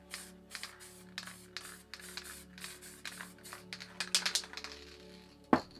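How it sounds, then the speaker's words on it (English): A spray paint can puffs black paint in short, repeated hissing bursts at close range, with a low background hum and a sharp click near the end. "So we'll spray the black this side. Just spray it lighter."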